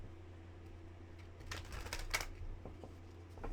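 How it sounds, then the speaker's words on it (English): Tarot cards are shuffled close by in a brief riffling burst of crisp papery flutters, rising in the middle then tapering off over low room hum. "We'll get a good shuffle on that."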